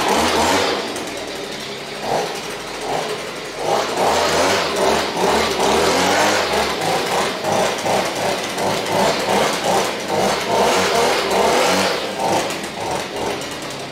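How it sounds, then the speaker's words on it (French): A leaf blower clears debris off a paver bedding layer outdoors, roaring loud and steady for the whole stretch with a rough, fluttering motor note and no speech. "on peut aussi servir du blower, du souffleur à feuille."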